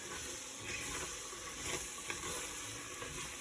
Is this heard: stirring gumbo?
yes